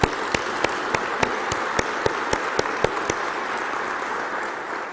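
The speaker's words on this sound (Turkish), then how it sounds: "onları alkışlıyorum." Applause from an audience at a political speech forms a steady wash of clapping, with a few sharp, evenly spaced claps standing out near the microphone over the first three seconds.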